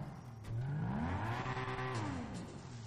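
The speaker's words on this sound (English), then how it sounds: "Damn, listen to that exhaust, though." Lexus LC 500 exhaust in GTA, a loud engine rev that climbs in pitch from about half a second, holds, then drops off near two seconds, with a racing car tone and no talk over it.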